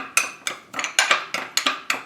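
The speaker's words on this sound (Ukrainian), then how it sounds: "Перемішуємо." A utensil clinks and scrapes rhythmically against a bowl, about eight quick strokes in steady succession, close and clear with no talking.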